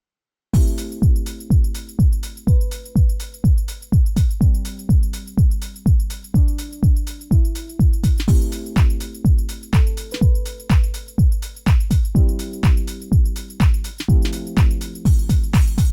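A synthesizer plays long, jazzy deep house chords with a steady pulsing kick-like thump underneath, the chords shifting every couple of seconds in a smooth progression.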